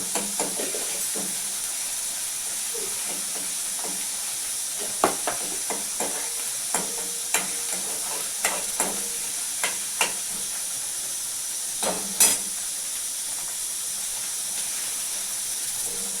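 Pigeon pea mixture sautéed in a pan until red, a soft hiss of frying with scattered spoon scrapes and taps against the pan, close and fairly quiet, no voices.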